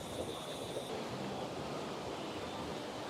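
Steady ocean surf washing and rushing at Myrtle Beach, South Carolina, with wind noise over the microphone, a continuous broad roar with no talking.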